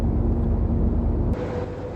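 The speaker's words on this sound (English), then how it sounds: "Engine on." A car engine cranks over and turns on in the survival game DayZ, a steady low rumble that cuts to a changed idle tone partway through, with no talk.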